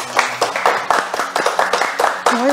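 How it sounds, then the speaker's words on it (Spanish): Small children's hands clap in uneven, overlapping bursts, a brief round of applause with a voice faintly audible underneath. "un aplauso para Sofi"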